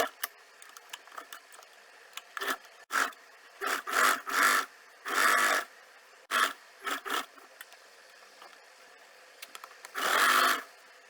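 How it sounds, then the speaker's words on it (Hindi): A sewing machine stitches a stand collar in short, close bursts of rapid mechanical whirring, separated by pauses, light clicks and fabric handling, with one longer run near the end. "पिन लगाने के बाद इसको राइट साइड से स्टिच करेंगे"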